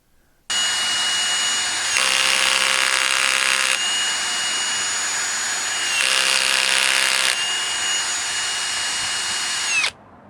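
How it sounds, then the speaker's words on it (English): A power drill driving a screw whirs steadily for several seconds, twice surging louder under load, then cuts off abruptly as the clutch engages and the chuck stops turning. "When the screw is in, the clutch steps in and the chuck stops turning."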